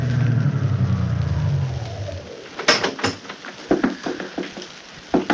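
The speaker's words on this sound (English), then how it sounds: "One day, back in June of 22, a big car drove up to the only entrance." A big vintage car, a limousine, drives up and stops in a 1920s radio drama scene, its low engine rumble fading out, followed by a couple of sharp door-like clunks and scattered bumps.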